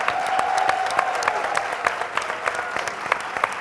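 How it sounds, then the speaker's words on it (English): An audience at a workshop applauds poet Nikki Giovanni, a steady wash of many hands clapping with distinct individual claps standing out, and a brief tone near the start. "let's give her a round of applause"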